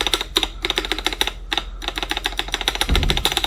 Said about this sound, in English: listen to this spacebar, it's just so awful